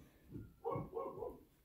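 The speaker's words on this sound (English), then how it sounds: "excuse my dog for barking" A house dog barks a couple of times, faint and somewhat distant, short muffled woofs in a quiet kitchen.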